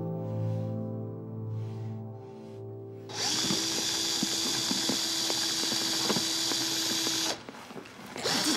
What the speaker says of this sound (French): Donc avec ta perceuse, tu peux essayer de faire moins de bruit.